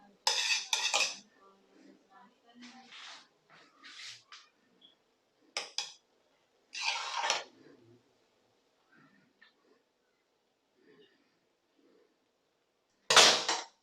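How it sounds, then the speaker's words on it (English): Rice for biryani being mixed in a metal pot, with a run of close spoon clinks and scrapes separated by short pauses, and a louder clatter at the end. "Now I want to just mix these chawal."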